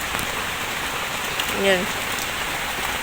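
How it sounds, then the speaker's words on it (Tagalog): Heavy rain falls in a dense, steady hiss across the whole stretch, with one brief spoken word and a short tonal blip partway through. "ang lakas talaga ng ulan dito"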